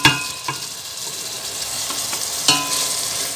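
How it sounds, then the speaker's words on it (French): A pot of Congolese-style purslane stew with tomato cooking on the stove, giving a steady, soft hiss and bubbling with a couple of clinks from a utensil on the pot near the start and midway. "Là, maintenant, on va laisser cuire gentiment."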